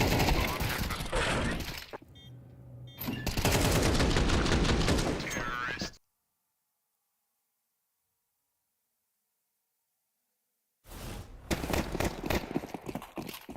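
Dense gunfire in a Counter-Strike match rattles in loud rapid bursts with shattering impacts, stops for several seconds of silence, then resumes in another sharp flurry of shots.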